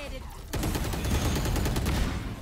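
Rapid gunfire from a first-person shooter video game bursts in after a brief quiet lull and continues as a dense, crackling volley of repeated shots to the end.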